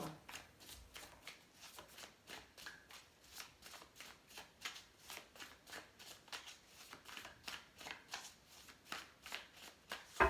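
Tarot cards are handled and shuffled by hand in a quiet room, a steady run of soft riffling flutters and slaps repeating at an even rhythm.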